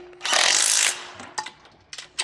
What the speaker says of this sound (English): if you're using an impact drill, you really just want to go until the impact itself stops moving